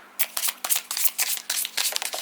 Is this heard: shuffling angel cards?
yes